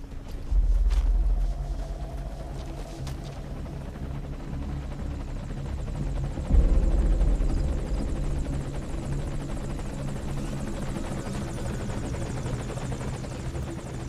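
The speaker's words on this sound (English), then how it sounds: "It sounds like there may be a helicopter incoming." A helicopter in the video game Metal Gear Solid V: The Phantom Pain, its steady rotor thump and engine drone loud and continuous, with a heavier low pulse swelling in twice.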